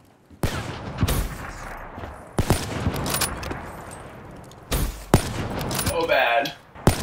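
Gunfire in Black Ops 3, several loud close bursts of rapid shots separated by short pauses, with a brief voice exclaiming over the firing near the end.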